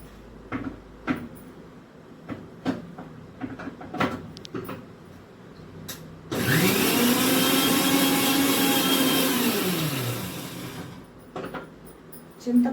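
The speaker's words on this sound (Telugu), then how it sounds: "చింతపండు మిక్సీ పట్టాలండి." A mixer grinder grinds soaked tamarind for a ripe red chilli chutney: the motor whines up sharply, runs loud and steady for about four seconds, then winds down, following quiet handling sounds.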